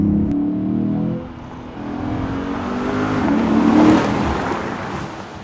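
A 2020 Lexus GS F engine revs with a broad rush of induction noise, the sound building and rising in intensity toward the middle before easing slightly, with no talk over it.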